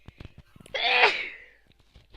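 A single loud, sharp sneeze bursts out, preceded by a few soft clicks and breaths and trailing off into quiet.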